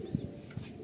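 Breeder pigeons of the Mangalgiri and Akash Pokuri lines coo softly in a loft, giving a few brief, low, throaty coos close by against faint background hiss.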